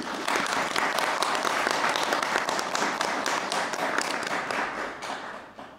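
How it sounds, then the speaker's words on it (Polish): Applause from an audience at a press conference for the Święto Dzieci Gór 2024 festival, a dense, steady round of clapping that holds for several seconds and then thins out toward the end. "No mogą być brawa nawet teraz."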